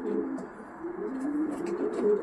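Soft, low pigeon coos repeat in a continuous rolling murmur, with faint higher chirps scattered above.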